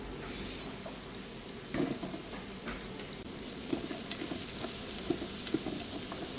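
Chopped onion, whole spices and paste frying in olive oil, a quiet continuous sizzle with scraping stirs and a few light knocks of a utensil against the pan, close but low in level, with no talking.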